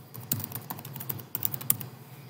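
A web address is typed on a computer keyboard: a quick, irregular run of light key clicks, close and fairly quiet, with no talking.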